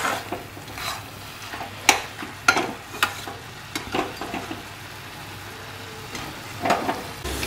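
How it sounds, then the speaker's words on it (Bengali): Shredded cabbage frying in a pan on full heat, with a steady sizzle broken by repeated scraping stirs from a spatula, close and fairly loud with no talking. "একটু ফুল আঁচে করে বাড়িয়ে এটাকে আরেকটু ভালো করে ভেজে নেব"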